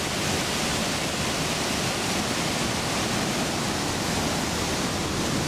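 Mountain river near a hiking refuge on the Grand Tournalin route rushes in a loud, steady broadband roar, close by and unbroken throughout.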